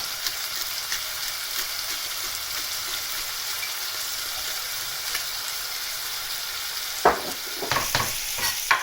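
Food fries in a pan for a homemade soup, giving a steady close sizzle and hiss, with a few clattering stirs and knocks near the end.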